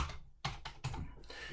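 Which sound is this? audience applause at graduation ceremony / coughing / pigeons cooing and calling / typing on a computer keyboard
typing on a computer keyboard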